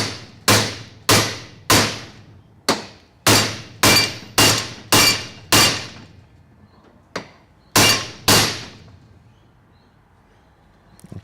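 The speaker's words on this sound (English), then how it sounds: "Sit that there and I'll just bash it back down" A bigger hammer bashes a metal part back into place in a shed workshop, a series of about a dozen sharp, ringing blows at uneven intervals, each decaying quickly, then a pause near the end.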